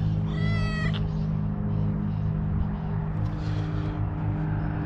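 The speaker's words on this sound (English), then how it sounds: "Cat following me around again." A cat on Molokai, Hawaii gives a single short meow near the start, then falls silent over a steady low outdoor rumble and hum.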